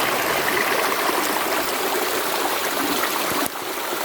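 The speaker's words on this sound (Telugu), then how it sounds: "ఇట్లా వాటర్ ఫాల్స్ వచ్చిందా?" A small waterfall stream pours along a forest trekking trail, a loud, steady, close rush of flowing water that holds constant and drops slightly in level near the end, with no talk.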